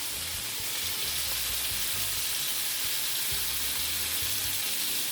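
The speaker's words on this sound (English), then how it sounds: "So you can hear it searing in the pan." Jalapenos and tomatillos searing in a pan for salsa verde give a steady, close sizzle and crackle that runs unbroken from start to finish, with faint low clunks of stirring beneath.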